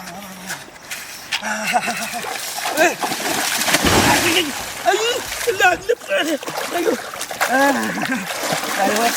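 Water splashes repeatedly and unevenly as someone bathes, with people talking and calling out loudly over the splashing.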